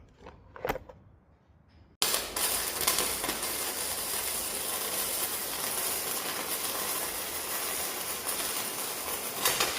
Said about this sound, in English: Now it's time to do some welding.